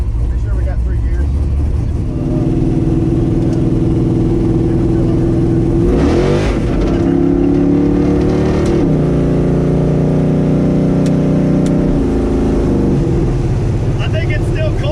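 A Barracuda drag car engine warming up sounds as a loud, steady low rumble that swells into a rev midway and then settles back to a heavy idle. It is heard up close, with people talking over it.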